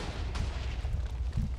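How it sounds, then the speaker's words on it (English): Heavy rapid cannon fire from an AC130 gunship in a video game, a dense continuous barrage of booming low thuds with no pauses. "this cannon is way too fucking powerful"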